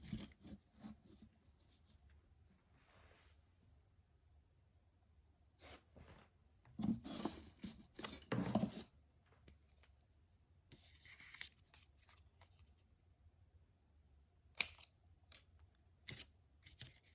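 Scissors trim paper for a 3-D craft project, giving a few quiet, close snips and crisp paper rustles in short clusters separated by long near-silent pauses.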